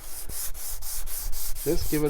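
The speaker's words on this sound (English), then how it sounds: "we're just going to take our sanding block" Steady back-and-forth scraping of a sanding block on a sealed wooden guitar neck, repeated rhythmic strokes, close and fairly loud, with a brief voice near the end.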